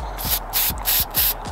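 A Plasti Dip spray can sputters onto a car wheel being dipped gold, four loud hissing bursts in quick rhythm, close up and alone.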